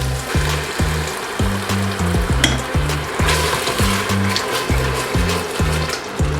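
Chicken and vegetables sizzle and fry steadily in a pan as stock goes in one ladle at a time. A regular bubbling, gurgling pulse runs under the hiss for the whole stretch.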